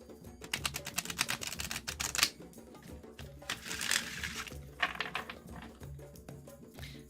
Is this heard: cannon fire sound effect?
no